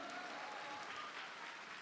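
An audience bursts into dense, continuous applause, a broad wash of many hands clapping at once that stays loud and even for its whole short length.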